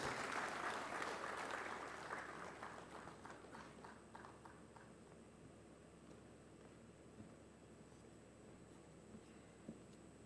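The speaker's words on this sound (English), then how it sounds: "Please join us in welcoming him with a big round of applause." An audience at a nuclear and radiological emergency event welcomes a speaker with applause, a burst of clapping that is dense at first, then thins to scattered claps and fades out.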